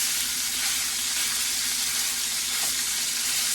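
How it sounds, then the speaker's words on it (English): Pork pieces sear in a frying pan alongside tomato and artichokes, a steady, dense sizzle holding evenly throughout at moderate volume, with a faint scrape partway through. "I'm just trying to press them into the pan to get a nice contact and sear on the second side"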